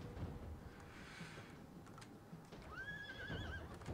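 Horses neighing on a battlefield in the video game Total War: Attila, a Saxons versus Eastern Roman Empire multiplayer match, with a clear rising whinny near the end over soft hoof clip-clop and low battle rumble.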